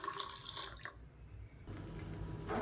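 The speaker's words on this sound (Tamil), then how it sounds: "இப்போ மிக்ஸி அலசிட்டு தாராளமாக தண்ணி சேர்த்துக்கலாம்." Water pours and splashes into a mixer grinder jar as it is rinsed out while making chutney, a steady running gush with a short lull in the middle.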